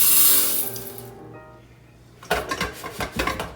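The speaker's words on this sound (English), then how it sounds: "So now we rinse the rice about twice." Running tap water rinses rice in a kitchen sink, a steady spray that fades off, then returns as splashing and sloshing with a few clinks.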